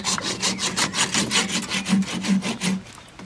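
An angle grinder trims a horse's hoof during shoeing, giving a rhythmic rasping, scraping sound in repeated strokes about four times a second, close and steady, with no voices.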